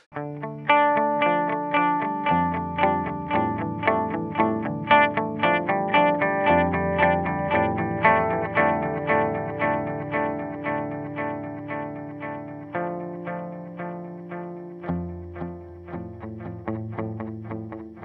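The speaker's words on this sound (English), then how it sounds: "There's distortion. Like the harder you hit it, the more it'll distort." An electric guitar through an EarthQuaker Devices distortion pedal plays a run of picked notes and chords, thick and gritty with a chorus-like shimmer, steady and fairly loud throughout.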